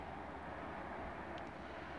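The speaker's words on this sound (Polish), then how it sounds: "Samolot." A steady, distant roar washes across the whole clip, like an aircraft flying high overhead, with no talking.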